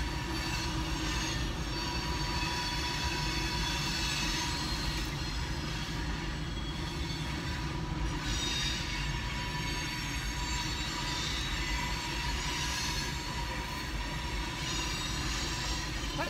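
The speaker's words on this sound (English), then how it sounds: "That train is really dragging today." A train rolls steadily past for the whole stretch, a loud continuous rumble of wheels on rails with squealing metal and a faint rhythmic clatter, with no talking over it.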